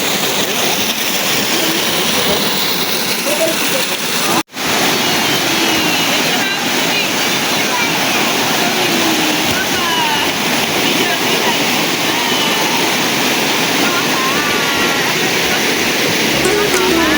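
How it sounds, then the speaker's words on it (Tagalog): Water pouring into a swimming pool as it fills at a camp in Santa Maria, Laguna, a loud, steady rushing wash that runs throughout, briefly cut by a sharp dropout, with no clear talk over it. "Tapos, ito yung swimming pool. Ayan, nilalagyan pa lang ng tubig. Running water din yan"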